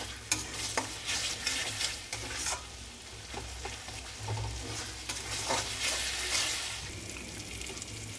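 A spice masala being stirred and sautéed in a pot for a chicken curry with green chillies and coriander, with a continuous sizzle and repeated scraping strokes of the spoon, close up.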